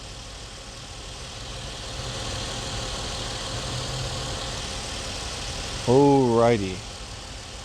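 A 2.7-litre all-aluminum V6 idles with a cylinder 1 misfire, a steady mid-low engine drone running throughout, with a short spoken word near the end over a brief rise in noise.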